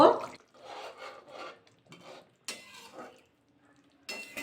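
Paneer curry with green chillies is stirred gently in a pan, giving a series of short, soft scraping and clinking strokes with brief pauses between them.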